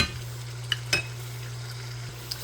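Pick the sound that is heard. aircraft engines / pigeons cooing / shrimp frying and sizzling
shrimp frying and sizzling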